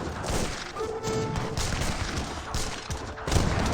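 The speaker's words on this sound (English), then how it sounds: "Villagers firing away as well." Villagers firing guns in an Age of Empires 3 battle: a dense, continuous crackle of gunfire with scattered booms and clashing impacts, loud and busy throughout, with no talk in the clip.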